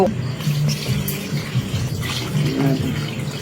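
Water poured into a pot of freshly cooked spaghetti, a steady close splashing and running-water wash lasting throughout, with low rumbling underneath.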